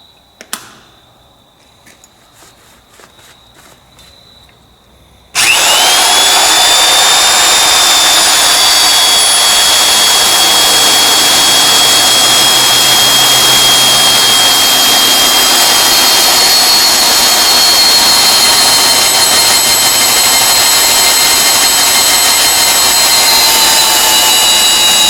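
A drill bores into metal using coolant. A few clanks are followed by a loud, steady high-pitched whine with a slowly shifting tone that runs for about twenty seconds.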